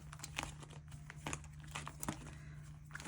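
Sticker sheets crinkle and rustle softly as someone digs through a sticker binder, a quiet run of papery crackles and shuffles close by.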